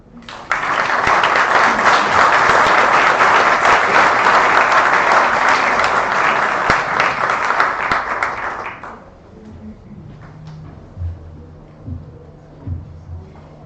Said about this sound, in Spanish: Agradecemos con este fuerte aplauso al señor Sergio Puebla